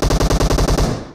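Rapid automatic gunfire in the mobile battle royale game BGMI, a tight burst of about nine loud, evenly spaced shots that quickly tails off, with no voices.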